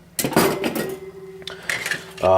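Metal camping cookware, including a small stove, can opener and spork, clinks and clatters in short handling bursts, close by, with a voice talking between the knocks.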